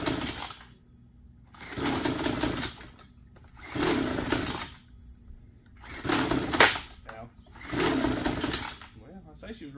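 A small gasoline engine, its choke still being fiddled with, runs in five loud surging bursts about two seconds apart, each rising roar dropping back to a low idle.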